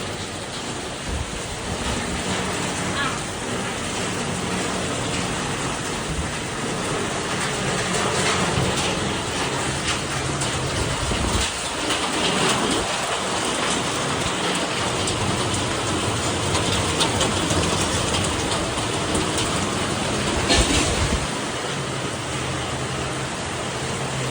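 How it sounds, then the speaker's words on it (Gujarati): Heavy rain pours down in a continuous loud roar of drops on surfaces, with a few deeper low rumbles around the middle and late parts. "તો ધોધમાર વરસાદ ચાલુ છે."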